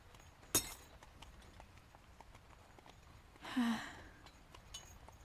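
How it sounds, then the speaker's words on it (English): A drinking glass breaks under a hard grip: a single sharp crack early on, then a brief scattered rattle a few seconds later, fairly faint in an otherwise quiet room. "A second glass broken."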